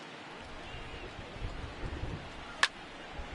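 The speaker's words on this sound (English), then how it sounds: "Really starting to pour now, and the forecast is not showing any signs of a break in the weather." Rain pours steadily on a baseball field in the video game MLB The Show 19, a soft even hiss throughout with a single sharp crack near the end.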